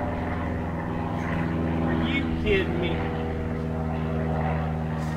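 A propeller airplane drones overhead with a steady, loud hum that fills the scene, while someone talks over it near a barn-find Chevy squarebody pickup.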